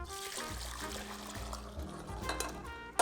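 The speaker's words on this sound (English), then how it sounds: "we're gonna pour this back into the pot" Flavored water poured back into a cooking pot for sweet and sour sauce, a gurgling, trickling stream of liquid with bubbly splashes lasting a few seconds, ending in a sharp clink.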